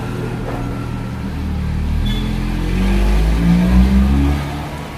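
Vehicle engine starting and running with a worn starter clutch, a steady low rumble that swells and revs slightly toward the end, close and fairly loud with a faint rattling whir above it.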